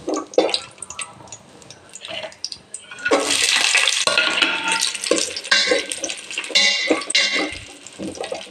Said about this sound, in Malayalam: ആദ്യം അണ്ടിപ്പരിപ്പ് വറുക്കാം.